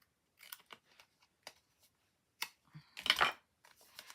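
Scissors snip through card in a handful of short, crisp cuts with quiet pauses between, close to the microphone.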